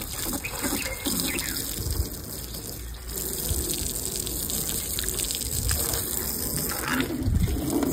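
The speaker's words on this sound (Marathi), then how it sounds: "सकाळी उठलो हे बघा आता पाणी मारच लागतं काचा." Water sprays from a hose pipe onto the glass of a tempo in the morning, a steady, loud gushing rush that runs without a break for the whole stretch, with no voices.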